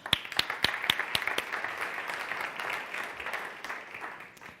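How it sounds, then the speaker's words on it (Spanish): Applause from the audience at an international culinary entrepreneurs' forum: a few sharp, distinct claps open, then a broad, steady wash of crowd clapping that slowly thins toward the end. "Un aplauso, por favor."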